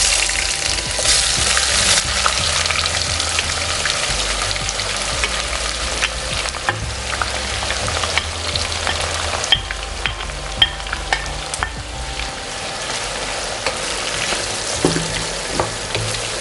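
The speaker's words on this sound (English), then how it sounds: "It's time to fry the onions." Finely sliced onions, about three large ones, frying in ghee and oil in a pan, with a steady close sizzle and crackle and occasional stirring scrapes throughout.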